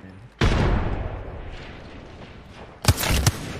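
A frag grenade goes off in an online multiplayer shooter game, giving a sharp booming blast that fades slowly, followed a couple of seconds later by two more rapid loud bangs.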